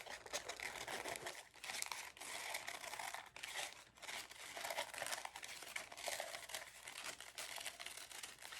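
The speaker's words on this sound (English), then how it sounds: "So I'm simply going to cut around like this." Scissors cut coffee filter paper into circles, producing a continuous crisp rustling and crinkling of thin paper close by, with small dips between cuts and no talking.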